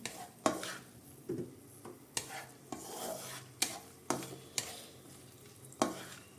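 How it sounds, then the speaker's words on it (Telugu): About five cashew nuts fry softly in oil in a pan for prawn biryani: a faint sizzle broken by regular spoon scrapes and stirs, roughly one every second, close and quiet. "జీడిపప్పులు ఒక 5, ఇవి కొంచెం ఫ్రై అవుతాం"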